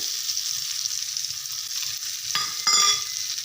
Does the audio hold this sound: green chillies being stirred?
yes